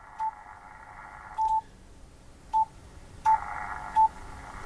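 Faint hiss and crackle from a ham radio receiver on the 20-meter band through a loft antenna, broken by several short, sharp beeping tones at irregular intervals, with no voices.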